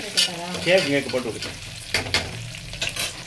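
Mustard seeds and fenugreek fry in a pan over a low flame for fenugreek rice, giving soft sizzling and crackling, with stirring and a few metallic clinks from a spoon close by.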